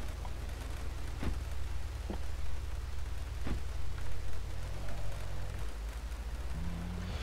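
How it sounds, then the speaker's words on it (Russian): Rain falls steadily in GTA 3 The Definitive Edition, a soft continuous hiss broken by a few sharper hits and a low engine rumble. "Странно, дождь только что закончился, а теперь он опять начался"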